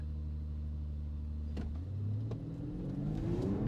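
A 2025 Audi SQ5's engine holds a steady low hum, then climbs in pitch as it revs hard for a launch start. The sound is close, loud and continuous, with no voices.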